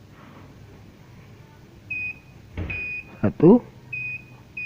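A multimeter continuity buzzer beeping on a shorted capacitor, several short beeps of varying length under a speaking voice, with clicks and probe contact noises.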